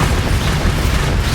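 A Bombarda blasting spell explodes in Hogwarts Legacy, a dense, booming rumble that fills the short moment at a steady, loud level with no voices.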